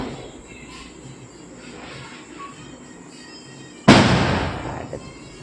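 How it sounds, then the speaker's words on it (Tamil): Firecrackers burst outdoors with one sudden loud crack followed by a decaying rumble of smaller pops, heard from inside a home after a quiet stretch of faint background noise. "வெளியே பட்டாசு போடுறாங்களா?"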